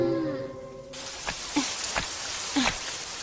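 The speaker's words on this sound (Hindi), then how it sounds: "नोबिता, तुम यहाँ, वो भी इतनी बारिश में" Steady cartoon rain hisses through a short animated scene, a broad wash of falling drops with a few louder splashes or taps on top, after a brief musical tone at the start.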